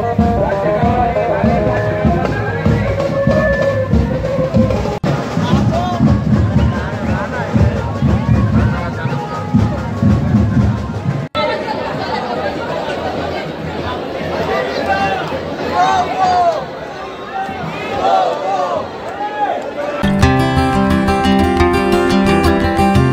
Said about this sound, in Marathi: आईच्या दरबारात भरपूर अशी गर्दी आहे